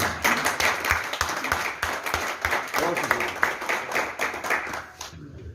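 Uneven clapping from a crowd at a press club election gathering, with distinct sharp hand claps and voices murmuring through it, thinning out near the end.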